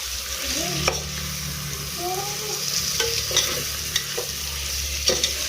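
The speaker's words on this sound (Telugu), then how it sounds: "ముందుగా మనం ఉప్పు కారం పసుపు అవి కలిపి పెట్టుకున్న రొయ్యలను అయితే వేసేసుకోవాలి ఇప్పుడు వీటిని మొత్తం మిక్స్ చేసుకుందామండి" Spiced prawns seasoned with salt, chili and turmeric are stirred in a pressure cooker for pulao, giving a steady sizzle with repeated scraping stirs and occasional clinks.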